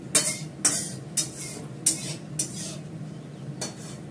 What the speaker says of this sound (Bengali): কড়াটাকে এগিয়ে পরিষ্কার করেছি, ডালের জল দিয়ে পরিষ্কার করে দিচ্ছি